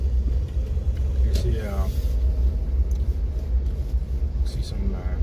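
A car flying flags drives past during Norway's National Day celebration in Ørsta, a steady low road rumble with the passing swell around the middle, while people talk nearby.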